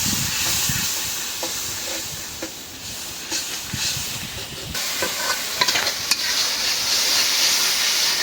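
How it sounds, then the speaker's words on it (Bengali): Spice masala with coriander powder being sautéed and stirred in a pan, a continuous loud sizzle and hiss broken by scraping strokes of the spoon, steady throughout. "মশলাটা ভালো করে কষাই নিলাম"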